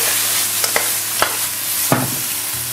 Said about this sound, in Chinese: 简单的翻炒2下，